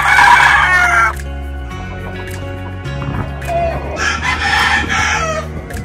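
A Super Brown Red gamefowl rooster, February born, crows loudly up close at the start, followed by softer clucking and a second burst of crowing over a steady low background hum.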